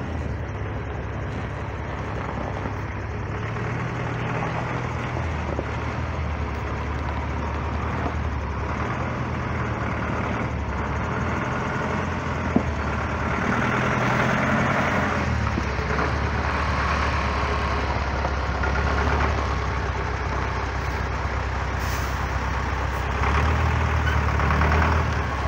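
A rare ZIL 4972 tow truck's engine runs after a hard cold start in about ten degrees of frost, holding a steady, loud low rumbling idle close by that rises slightly in intensity partway through.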